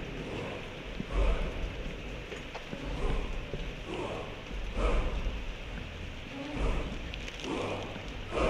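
Rain falls steadily in a Paris neighbourhood, a dense broadband wash that stays fairly loud and even throughout, with faint rhythmic knocks rising through it every second or two.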